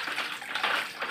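Tap water running steadily during the second round of washing, a continuous close splashing hiss with no talk.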